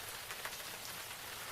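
Heavy rain falls in a steady, quiet hiss of dense drops, with no voices.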